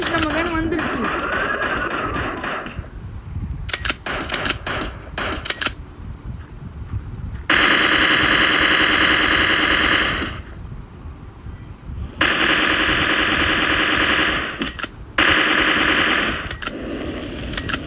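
Machine gun fire from the Mini Militia mobile shooter game comes in repeated rapid bursts, some short and some sustained. Quieter gaps fall between the bursts, and a faint voice sits underneath.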